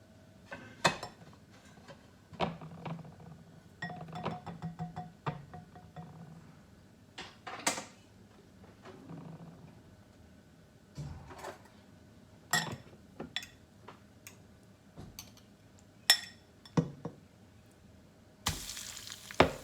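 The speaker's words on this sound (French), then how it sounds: "on passe à la friture." Cauliflower pieces fry in hot oil for a white-sauce tajine, a quiet, continuous sizzle broken by frequent clinks and scrapes of utensils against the pan.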